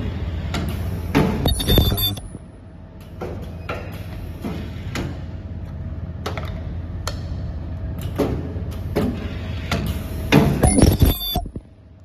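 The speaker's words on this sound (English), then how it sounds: "Semi-automatic facial cleaner soft tube sealing machine" A semi-automatic soft tube sealing machine for facial cleaner tubes runs with a steady mechanical hum, punctuated by repeated sharp metallic clicks, clinks and brief hissing bursts at irregular intervals.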